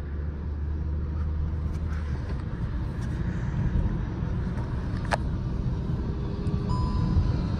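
A car cruises along a highway, steady low road and engine rumble with tire noise from inside the cabin, continuous and even with a few faint ticks.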